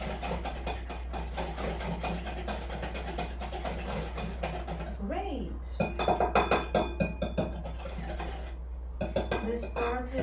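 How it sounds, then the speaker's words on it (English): Cake batter whisked in a bowl, a rapid run of light metallic clicks and scrapes, close by, set over a constant low hum, with short pauses and a voice talking in places. "Now we will be mixing it with our whisk."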